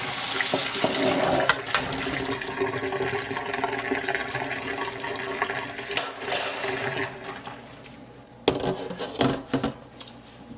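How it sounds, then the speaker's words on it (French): Boiled russet potatoes being drained, with water pouring and splashing steadily into a sink for several seconds, followed by a few clattering knocks near the end. "Là, on les arrête et puis on les égoutte."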